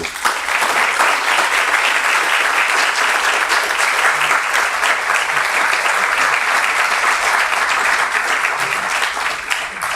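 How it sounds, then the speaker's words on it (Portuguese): A full audience applauds a surgeon at a Brazilian surgical conference, loud dense clapping sustained evenly for about ten seconds with no talk over it. "Eu gostaria de uma salva de palmas para ele"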